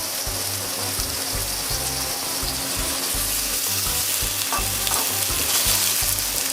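Tofu fries in rice bran oil in a pan, a loud continuous sizzle and crackle with occasional stirring scrapes, close up and without talk.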